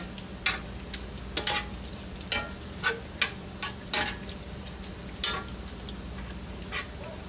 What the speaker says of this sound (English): Go ahead and stir it up a little bit. I got it simmering.